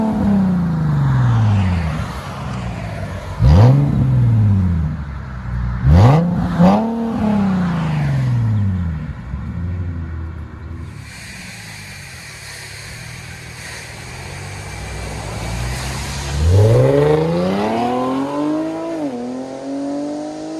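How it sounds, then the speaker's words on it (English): A 2012 Infiniti G37 with a 3.7L V6, dual exhaust and resonator delete revs loudly several times, each throttle blip rising and falling sharply, with a rough idle between bursts and no talking. "Give it gas."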